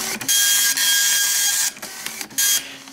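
A Citizen GSX-230 color dot-matrix printer prints with loud, close, buzzing head passes, pausing briefly between lines in a stop-start rhythm.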